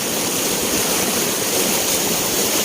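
Floodwater rushing past during a typhoon in a rural province, a loud, dense, unbroken roar close by with no voices.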